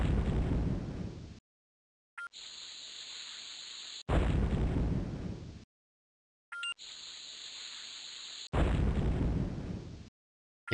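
Bomb explosions in the platform puzzle game Lode Runner: The Legend Returns, with two loud, long booming blasts that each cut off abruptly, separated by quieter bursts with high ringing tones and brief silences.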